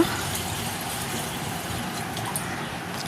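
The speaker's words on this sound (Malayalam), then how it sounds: "ജാറിൽ കുറച്ച് വെള്ളം ഒഴിക്കുക." Water pours steadily into a jar meant for storing fresh coriander leaves, making a continuous, close, even gush that lasts throughout with no talking.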